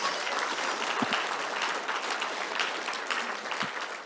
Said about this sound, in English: round of applause again for them?